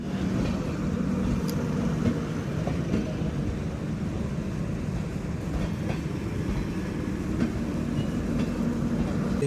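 A steady, loud rumble of a train rolling into Durgapur station, with faint rattling and clicks throughout and no speech.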